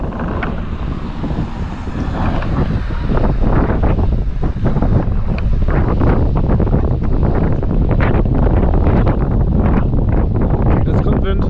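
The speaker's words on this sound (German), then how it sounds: "Wind." Strong wind buffets the microphone outdoors beside the Main river in Karlstadt, a loud continuous roaring rumble with gusty bursts throughout, no talking over it.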